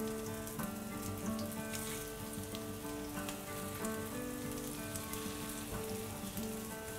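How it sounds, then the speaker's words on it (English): Raw banana and potato kebabs shallow frying in hot oil, a steady dense sizzle running throughout, close and fairly loud with no talking. "Just to make little on a healthier side, we'll just shallow fry them. So our oil is hot enough."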